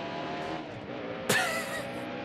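Race cars in the NASCAR Heat Evolution video game roar past with a steady engine drone and one sharp whooshing pass-by midway through.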